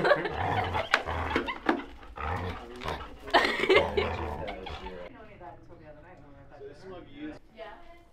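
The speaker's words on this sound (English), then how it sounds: "The dogs!" Dogs at a military-style dog training facility growl, bark and snarl loudly and close by, mixed with people's excited talk and greetings.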